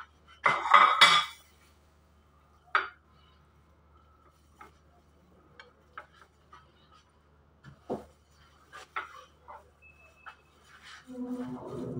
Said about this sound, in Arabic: وهينا نحن نسكب صحن.